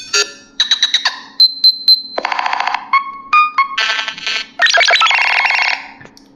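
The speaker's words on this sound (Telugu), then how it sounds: "రింగ్ టోన్స్ అనేది మనకు ఒక 10 ఇచ్చారు. 10 అనేది డిఫాల్ట్గా నథింగ్ ఫోన్ వాళ్ళు ఇచ్చారు." A Nothing Phone 1 plays one of its built-in default ringtones, a loud, crisp run of synthetic beeps and chiming electronic tones in quick rhythmic bursts, heard alone and close up with no voices.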